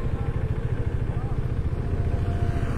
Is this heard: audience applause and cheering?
no